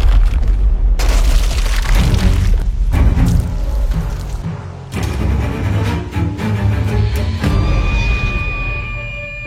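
An anime railgun shot followed by an explosion: loud, deep booms and rumbling blasts with several sharp impacts, ending in a sustained ringing tone.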